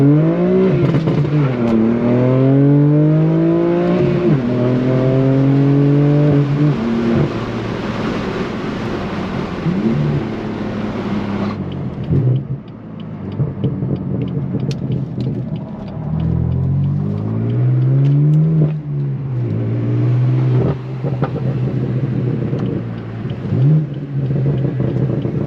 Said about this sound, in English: the universe just wants you all to hear all the downshifts possible